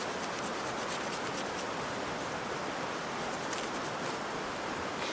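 A Groda knife with a Scandi grind is forced down through thick 1.5-inch rope, producing a continuous, even rasping scrape of fibres that holds steady for about five seconds, close up with no talk.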